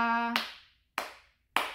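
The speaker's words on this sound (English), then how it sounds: "Just one clap, one beat." Three crisp single hand claps ring out one after another at an even beat, close and clear, each decaying quickly into silence. A brief tonal note sounds just before the first clap.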